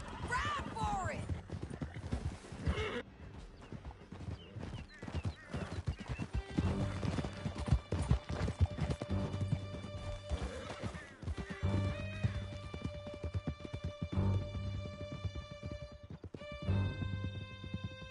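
Horse galloping in Red Dead Redemption 2, a steady clip-clop of hooves with an occasional whinny, running continuously under a swelling orchestral score and shouted voices.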